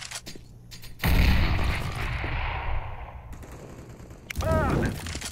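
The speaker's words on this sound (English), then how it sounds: "Grenade!" A grenade blast in Counter-Strike: Global Offensive, a loud broadband boom with a rumbling tail that dies away over a few seconds, followed by another sharp burst.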